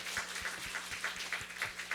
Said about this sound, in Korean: 수고한 멤버들에게 감사의 박수를 드립니다